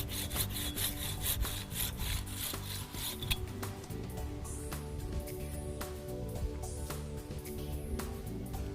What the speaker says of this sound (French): passez alors à une scie à élaguer.